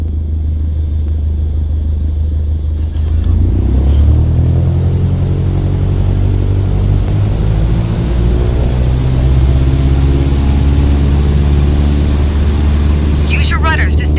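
Cessna 152 piston engine at full takeoff power in a flight simulator game, a loud steady drone that rises after a few seconds and then holds a strong, continuous rumble throughout.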